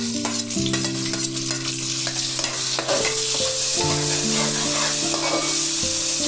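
Green chillies and tomato fry for a village-style mutton curry, a steady close sizzle with spoon scrapes and stirring clatter throughout, a faint tonal hum underneath and no talking.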